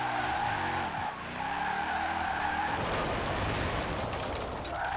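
A Mercedes SLS AMG drift build in Forza Horizon 4 slides with sustained tire squeal over a revving engine, the skid holding loud and continuous throughout.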